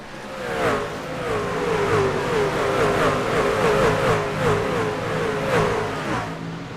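Race trucks at Dover accelerate hard at a green-flag restart, a loud, rising chorus of engines revving up through the gears in waves as the pack passes, with no talk.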